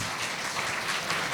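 Audience at a college award ceremony claps together in a dense, even burst of applause, steady and fairly loud for a brief moment, with no voice over it.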